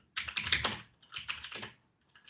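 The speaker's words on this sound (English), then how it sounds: "No, I should be typing properly." Computer keyboard typing comes in two quick bursts of close, crisp keystrokes with a short pause between, faint overall and without speech.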